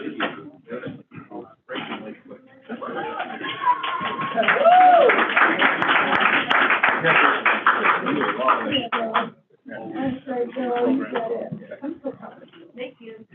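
An audience at a school Board of Education meeting bursts into applause and cheering that runs for several seconds before fading, with voices talking just before and after.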